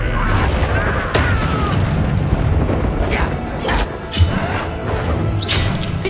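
In Hogwarts Legacy, Bombarda blasting spells go off several times, loud booming bursts spaced a second or two apart over a rumbling, crackling battle backdrop.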